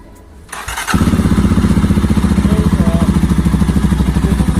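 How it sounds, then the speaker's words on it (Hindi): A Mahindra Mojo motorcycle engine starts after a brief quiet moment, then settles into a loud, steady, throbbing idle exhaust note with a regular pulsing rhythm, close to the listener. "जैसे कि मोजो को हम स्टार्ट करते हैं,"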